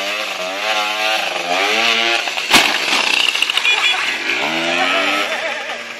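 A moped engine running close by, loud and buzzing, its pitch rising and falling as it revs, with a sharp click midway.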